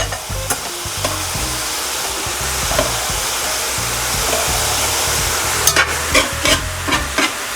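Onions frying in oil in a pan, a loud, steady sizzle that runs throughout with stirring clatter near the end.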